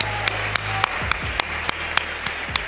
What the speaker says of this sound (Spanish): voy a pedirle también un aplauso